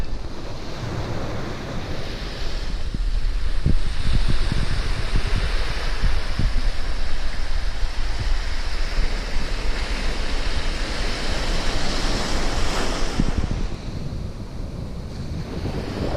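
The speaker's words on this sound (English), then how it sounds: "Even when the sea's a bit rougher here" Rough sea surf breaks on a Dominican Republic beach in a steady wash of crashing waves and roaring spray, with wind buffeting the microphone throughout and no talking.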